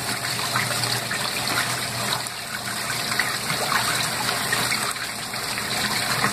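A washing machine churns clothes in only a small amount of water, giving a steady, continuous rushing and sloshing wash that stays fairly loud throughout with no voices.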